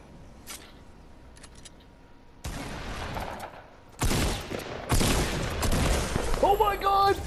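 Gunfire in a Fortnite Battle Royale squads match, with bursts of shots and loud explosive blasts that grow denser toward the end, starting after a quieter stretch with faint clicks.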